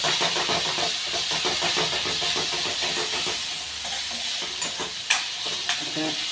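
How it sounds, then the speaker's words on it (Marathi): Ginger, garlic and coriander paste is sautéed in a pan, giving a loud, continuous close sizzle broken by the scrape and clack of a stirring spoon, with no one talking. "त्याला छान असं परतून घ्यायचं।"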